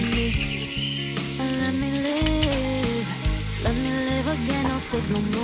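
Ginger and green chili hitting hot oil in a pan for chicken feet tinola give a steady close sizzle, partly masked by a melodic music bed playing throughout.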